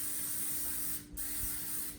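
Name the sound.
cooking oil spray onto a pan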